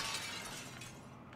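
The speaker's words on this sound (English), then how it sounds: "A jar! Come on, jar throw!" A glass jar thrown and shattering in the video game Little Nightmares 2, a bright crash of breaking glass that fills the short moment, with a further faint tinkle near the end.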